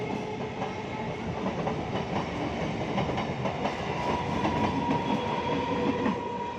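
A Hasnabad local train rumbles steadily past nearby with rhythmic clickety-clack of wheels on rails, loud and continuous throughout.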